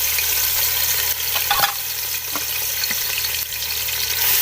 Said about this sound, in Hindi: ऑयल गर्म हो चुका है। अब इसके अंदर एक बड़े साइज़ की प्याज डाल देते हैं।